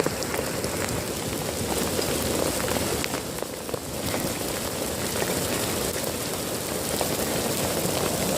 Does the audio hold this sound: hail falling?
yes